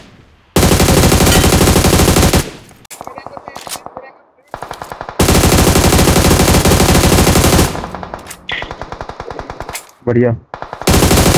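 Rapid bursts of automatic gunfire in the BGMI mobile battle royale game, loud and sustained in long strings with short pauses, while players talk excitedly over it.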